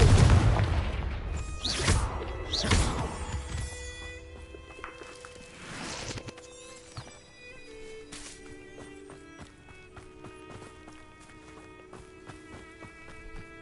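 Fiery Confringo spell blasts in Hogwarts Legacy on PS5: a few deep booming bursts in quick succession, then another a little later, fading as light music carries on.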